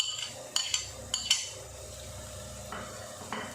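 Finely chopped garlic cloves are tipped into a kadhai of translucent onions, with a quick run of metal spoon clinks and scrapes, then faint stirring and a gentle sizzle at low volume.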